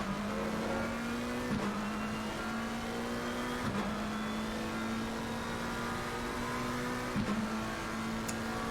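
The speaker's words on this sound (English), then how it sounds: "let you listen to the McLaren just down the straight real quick" A McLaren race car in a racing video game screams down a straight in a loud, sustained engine note, rising steadily through each gear before dropping sharply at three upshifts, with no talking.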